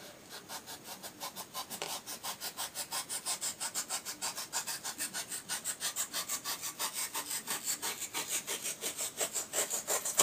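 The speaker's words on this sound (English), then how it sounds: "it's basically cutting the edge along the lip of the foam and shaving down the actual piece" A blade shaves down the edge of a foam prop in quick, even rasping back-and-forth strokes, close and steady for the whole stretch.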